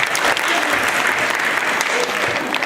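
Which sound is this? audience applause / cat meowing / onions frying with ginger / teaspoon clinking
audience applause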